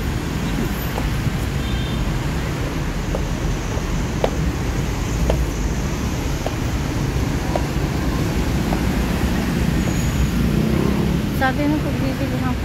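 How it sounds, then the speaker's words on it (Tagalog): Steady road traffic on EDSA, a broad continuous rumble of engines with passing vehicles, fairly loud and unbroken throughout, with no one speaking. "Ayan ang traffic sa EDSA."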